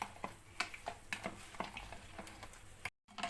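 Sugar mixture for kuih talam being stirred by hand in a bowl, with a steady series of soft scraping and clinking strokes at close range, a brief gap of silence near the end, and no voices.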